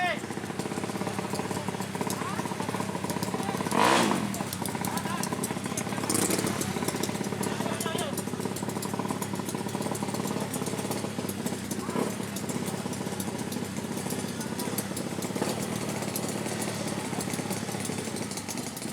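Automatic 200 cc motorcycles at a regional drag racing event, a steady engine drone with crowd and announcer talk layered over it and occasional louder passing bursts, continuous throughout.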